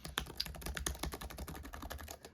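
Fast, steady typing on a ThinkPad laptop keyboard, a close run of crisp keystroke clicks at an even rhythm with no talk.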